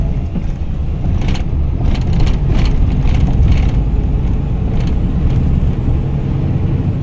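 Heavy road traffic with many cars passing produces a loud, continuous roar of engines and tires, with passing vehicles swelling and fading nearby and no talk.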